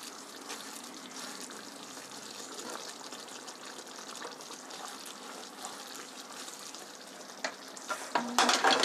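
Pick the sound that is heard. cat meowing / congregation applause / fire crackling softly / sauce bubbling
sauce bubbling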